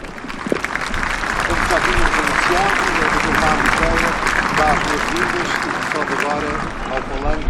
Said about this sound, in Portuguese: o vosso aplauso agora vai para o diretor do Palácio Nacional de Mafra, o Dr. Mário Pereira.